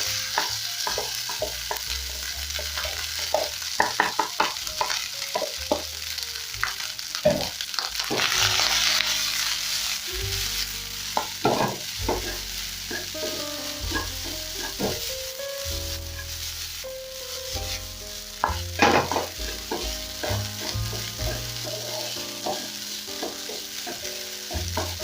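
Leftover rice stir-fried in a hot pan for Chinese fried rice, a loud continuous sizzle broken by repeated sharp clanks and scrapes of a spatula against the pan.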